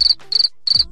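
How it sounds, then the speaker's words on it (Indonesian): A cricket-chirp sound effect plays three quick, sharp, high trilled bursts in close succession, loud and clear with brief silences between them. "Kayak banyak jangkrik di sini."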